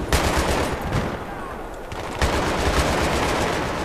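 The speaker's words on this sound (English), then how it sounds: "I'm being shot at" Gunfire in the video game Battlefield 3, loud sustained automatic bursts from nearby weapons, dense and continuous with a brief dip before resuming, and no talk over the shooting.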